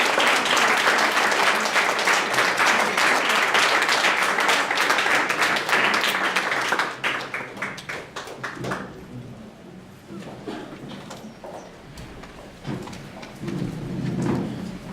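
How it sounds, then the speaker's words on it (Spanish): Church congregation claps loudly in a dense burst of applause for about seven seconds, then it thins into scattered claps and murmuring voices. "dale una ofrenda de palmas y ponte de pie"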